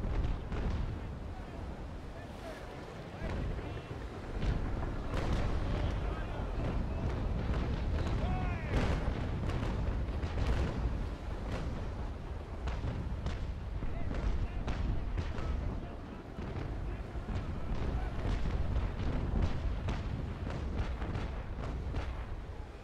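Mortar brigs firing in the Naval Action naval warfare game, repeated deep booms and blasts scattered over a continuous rumbling battle backdrop, with players talking throughout.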